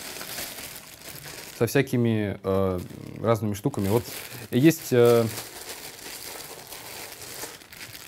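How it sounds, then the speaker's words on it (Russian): A plastic bag crinkles as a guitar pedalboard is unboxed, with soft rustling under someone speaking Russian that continues throughout. "Вот у нас в педалборде лежит такой вот пакетик"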